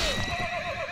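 A horse in Mount & Blade: Warband gives one loud, close, wavering whinny that fills the whole moment, with a faint hoof clop at the start.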